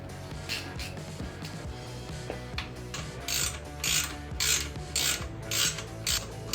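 A ratchet tightens the exhaust flange bolts on a Vance & Hines PCX ShortShot Staggered motorcycle exhaust. Fast clicking bursts repeat in a steady back-and-forth rhythm over faint workshop background noise, close to the listener.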